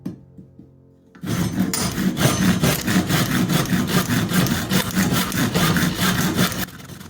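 An old wooden axe handle being hand sawn, with steady rasping back-and-forth strokes that start after a short quiet moment and run loud and continuous to near the end.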